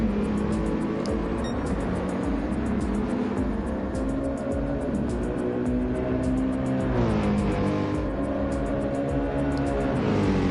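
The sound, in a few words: race car lapping Daytona circuit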